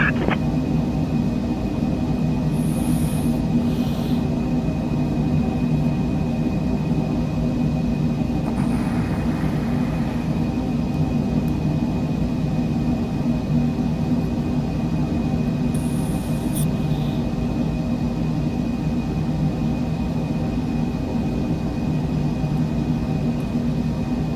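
A Cessna Citation Longitude jet climbs after takeoff in Microsoft Flight Simulator, a steady, even engine drone with a constant whine that holds unchanged throughout, broken only by a few faint brief clicks.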